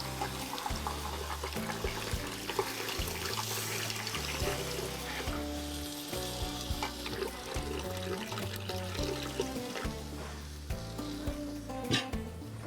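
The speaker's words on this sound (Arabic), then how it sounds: "شحال ديال الماء تقريبا كنضيفوا؟ تقريبا ايطرو." Water poured into a pot of farm chicken cooking with preserved lemon and olives, a continuous splashing and bubbling sizzle over a background of kitchen sounds.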